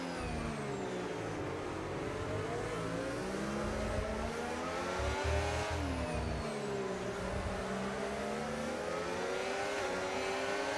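A race car in the Aston Martin races flat out down the straight in a Mexico City round of a sim racing series, its engine a loud, continuous high-revving whine that rises and falls steadily with no talk over it.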